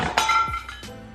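Glass pieces clink together as they are handled, making a few sharp, bright chinks in about a second, close and clear with no talking.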